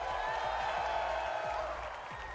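A live audience at a Fortnite FNCS championship event in Copenhagen cheers and claps in a dense, continuous roar that fills the hall, with a faint voice underneath and the crowd easing slightly toward the end.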